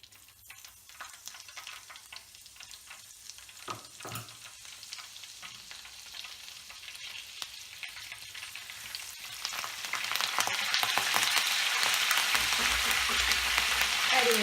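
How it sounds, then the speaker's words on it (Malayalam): Green chillies and curry leaves fry in hot oil as a topping for crispy chicken fry, a soft continuous sizzle with stirring that swells louder toward the end. "കരിവേപ്പിലയും പച്ചമുളകും ഒന്ന് എണ്ണയിൽ വറുത്ത് കോരി ഇതിൻ്റെ മുകളിൽ ഇടാം"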